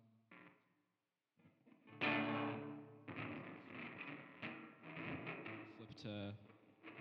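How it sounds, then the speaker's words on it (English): Electric guitar played with a distortion effect switched on, heard as loud, gritty sustained chords beginning after a short pause and continuing with shifting strums, close and without talk. "All right, and then distortion comes on."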